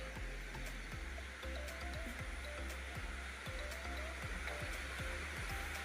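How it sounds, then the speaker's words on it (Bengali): Heavy rain pours steadily as a constant broadband hiss, with faint music and a few soft clicks underneath. "বৃষ্টি হইতেছে এত বৃষ্টি হইতেছে"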